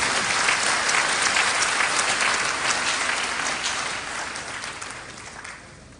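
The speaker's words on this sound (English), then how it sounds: "Please applaud Professor Mrs." Loud, dense applause from a large university congregation crowd at KNUST welcoming the vice chancellor, sustained for several seconds before gradually fading toward the end.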